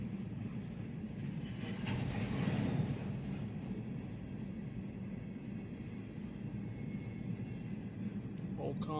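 A Norfolk Southern coal train rolls past at steady volume, a continuous low rumble of wagons and wheels with a faint swell around the midpoint and no clear pauses.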